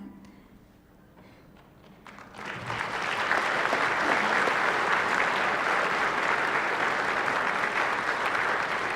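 An audience applauds at an opening-day legislative floor session. After a quiet moment with faint shuffling, a full, loud round of clapping swells up and holds steady to the end.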